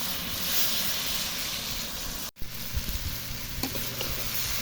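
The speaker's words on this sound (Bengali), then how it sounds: "সবজিটা ভাজা হয়ে গেছে।" Vegetables fry in a wok for a vegetarian curry, giving a loud, continuous close sizzle and hiss with occasional stirring scrapes and one brief break partway through.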